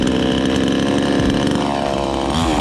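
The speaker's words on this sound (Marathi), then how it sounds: "आपण त्यात इंजिन ऑइल टाकूया आणि मशीन चालू करूया" A wood-cutting machine's small two-stroke engine runs at a steady high-pitched buzz right after engine oil is added, loud and close, briefly dipping and rising near the end with no talk.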